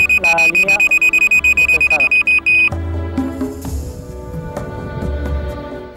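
A carp fishing bite alarm beeps in a fast, loud, even series of electronic tones that stops abruptly, followed by wind and outdoor rustling.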